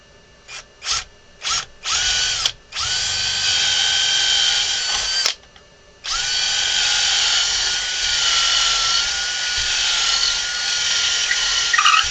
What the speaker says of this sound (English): we're going to take our 1/4 inch drill bit and we're going to drill our hole for our string.